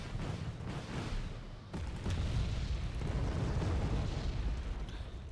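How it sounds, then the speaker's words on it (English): Artillery fire in the strategy video game Wargame Red Dragon: a continuous rumbling barrage of distant booms and blasts rolling together, low and dense, at moderate level with no talking. "More artillery from Redfor."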